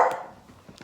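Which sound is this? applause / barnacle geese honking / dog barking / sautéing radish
dog barking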